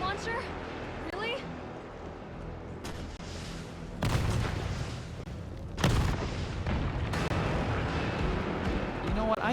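Rocket launcher fire in the Resident Evil 3 Remake during a Nemesis boss fight: two heavy booming blasts with rumbling low end hit over dense combat noise, with a person talking throughout.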